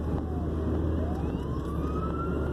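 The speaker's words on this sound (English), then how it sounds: "there's an ambulance coming" An ambulance siren wails steadily, heard from inside a moving car over constant road and engine rumble, its pitch slowly rising as it approaches.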